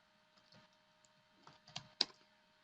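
Quick, faint clicks of typing on a computer keyboard while entering a Linux command, a few sparse keystrokes building to a slightly louder final key press, close and quiet.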